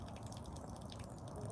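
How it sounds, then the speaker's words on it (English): Water drains out of an upturned sprouting jar, a faint, continuous trickle and dripping over a low, muffled background, quiet and close. "give them a good swirl around, and then empty the water out again"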